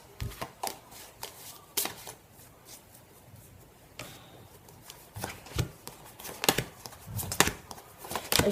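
A deck of cards being shuffled at close range, with repeated crisp riffles and flutters in irregular bursts over a quiet room.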